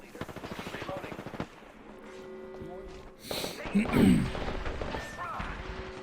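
Rapid automatic gunfire in the battle royale shooter Apex Legends, bursts of shots mixed with game effects and a player talking over the action.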